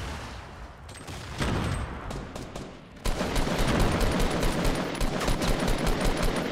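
Gunfire in the video game Fortnite, a dense run of rapid automatic shots that grows louder and fuller partway through, continuing without a break and with no talking over it.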